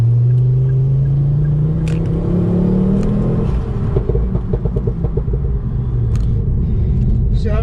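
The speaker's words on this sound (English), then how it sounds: "It just pops and burbles quite nice when you want it to, when it's actually under load." Ford Focus ST225 driven under load, its engine droning and rising in pitch before the exhaust burbles and pops in a loud, close, rapid crackling series.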